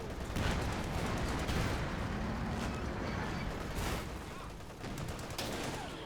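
Machine gun fire in the Company of Heroes 2 battle game sounds as dense, rapid crackling bursts amid a constant roar of combat, loud and close, with a brief dip near the end before the firing resumes.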